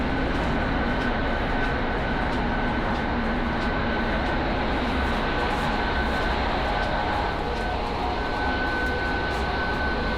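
Steady, loud rumble and rushing noise inside a moving Chinese D series sleeper train carriage, continuous and even throughout with a faint high hum and no talking.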